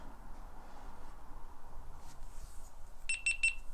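A GoPro Media Mod powers on with three quick, bright electronic beeps near the end, close and clear over a quiet room hum.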